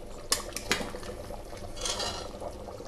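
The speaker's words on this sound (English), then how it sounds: "occasionally we have to stir the gravy and scrape from beneath so that it may not stick to the" Mutton biryani gravy stirred and scraped in a cooking vessel, with a few sharp metallic clinks of a spoon against the pot over a soft, steady simmering hiss.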